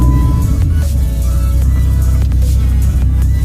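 Engine of an 800 hp Dodge Viper with a manual gearbox pulling away from a stop, a steady loud low drone with uneven rises as throttle and clutch are worked, close by.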